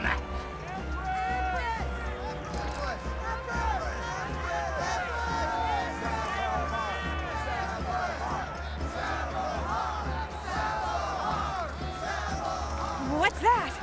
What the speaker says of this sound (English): The other trainees. They're cheering for you, Empress.